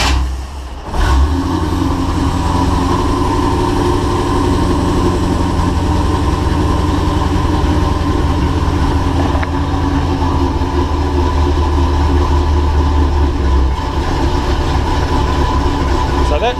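An HT Holden Monaro engine with FiTech fuel injection cranks and catches, then settles into a loud, steady, low idle that runs on evenly for many seconds.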